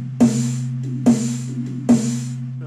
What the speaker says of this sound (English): And then here's the bass drum.